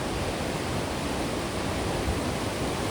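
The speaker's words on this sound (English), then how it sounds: "There is the waterfall" Broadband rushing roar of a waterfall at a hidden spot near Doodhpathri in Kashmir, steady and close, filling the whole stretch without a break.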